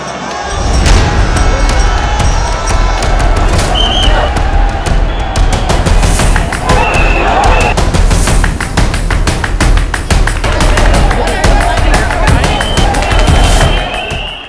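A large crowd of pilgrims fills a street in Ayodhya with a loud, steady babble of many voices, with footsteps, scattered taps and occasional higher calls over a constant close hubbub.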